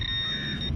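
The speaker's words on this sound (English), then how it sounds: "That's the alarm." A shrill, steady electronic alarm tone sounds briefly and loudly on a San Diego beach, a single sustained high-pitched beep with low rumbling underneath.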